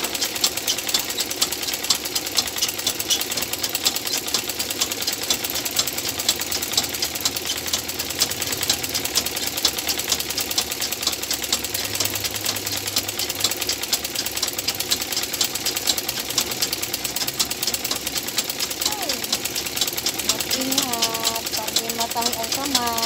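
A sewing machine runs continuously with a fast, steady mechanical rattle, zigzag stitching ruffles for a kitchen curtain, with a voice speaking faintly under the motor.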